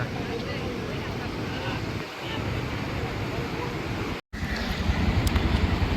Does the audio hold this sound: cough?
no